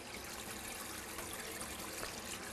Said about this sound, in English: I'm going to fill up a graduated cylinder with water